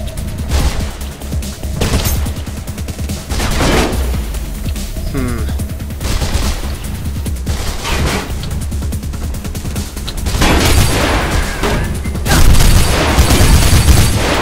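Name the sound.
gunfire in the video game Mirror's Edge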